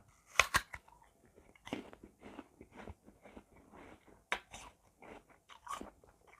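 Crunchy imported red-flesh apple bitten and chewed close up, with sharp crisp bites followed by a run of wet, crunching chews.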